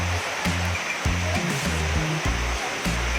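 Srambang Park waterfall in Ngawi roars as a loud, continuous rush of falling water, steady throughout with no voices.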